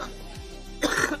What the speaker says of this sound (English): I'm going to just cough really loud into the mic right now to clear my throat